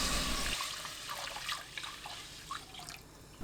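Water, 1.6 litres, pours into a pot of briefly stir-fried broth anchovies for Korean doenjang soup stock: a close, continuous splashing gush that settles into lighter trickling, with no speech.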